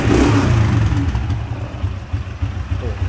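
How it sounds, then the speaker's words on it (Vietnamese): A 2000 Honda Super Dream motorcycle engine runs close by, a steady low mid-pitched drone with slight rising revs near the start, alone without talk. "Test cái máy cho mọi người nghe tiếng máy ha."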